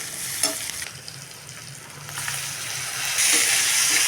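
Onions and tomatoes fry in a pan under repeated scraping stirs, a close, wet sizzle that swells and fades with each stroke and grows louder toward the end.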